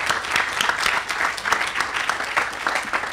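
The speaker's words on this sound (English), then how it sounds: "So a round of applause for that leadership," Audience applause at a housing groundbreaking ceremony in Orient Heights, a steady dense wash of many hands clapping for about three seconds, fairly loud and continuous with no clear talk over it.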